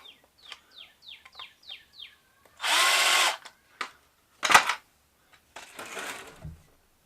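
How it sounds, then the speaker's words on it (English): A power drill backs screws out on a workbench, giving a few loud whirring bursts of a couple of seconds each, with chirping birds in the background before them. "there's some more screws in here. I'm going to take them loose."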